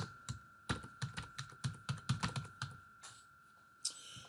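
Close, crisp clicking of a computer keyboard as labels are typed into a database, with irregular bursts of keystrokes and a few brief pauses between them. No one speaks.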